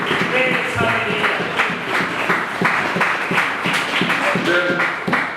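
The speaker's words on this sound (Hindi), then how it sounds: "आए जोरदार तालियां बजाएं" A church congregation claps loudly and steadily, dense sustained applause from many hands filling the room with scattered voices mixed in.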